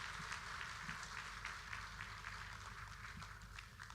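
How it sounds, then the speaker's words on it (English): Faint, distant applause from an audience at a Kenyan Ministry of Health event, steady scattered clapping that goes on for the whole stretch under a low background hum. "Another round of applause as they take that photo."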